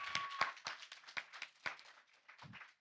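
Sparse clapping from a small audience at a startup demo day as a prize winner is called to the stage, a handful of separate hand claps spread unevenly, fading toward the end.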